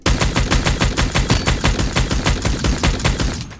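Scourge gun in the video game Badlanders firing a sustained automatic burst, rapid evenly spaced loud shots rattling on without a break for nearly four seconds.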